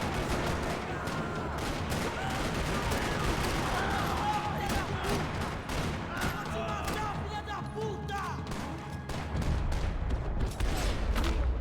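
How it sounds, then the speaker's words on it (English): Gunfire in the Max Payne 3 video game, set in a parking lot: rapid bursts and single shots crack repeatedly throughout at close range, with a deeper heavy boom near the end. "Another parking lot rattling with gunfire."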